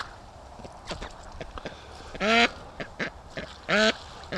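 A free-range duck by a creek gives two loud, raspy quacks, close and spaced about a second and a half apart, amid soft splashing and shuffling movement.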